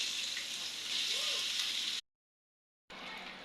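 Vegetables fry in a pan with a steady, even hiss for about two seconds. The sound then cuts to a short stretch of silence and returns at the same level.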